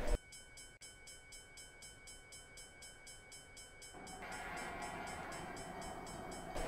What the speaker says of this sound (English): But we are passing an AI train, a